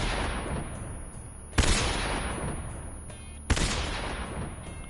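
Two heavy grenade explosions in Metal Gear Solid 3, each a sharp loud blast about two seconds apart, set against a constant dense layer of game noise and rumble.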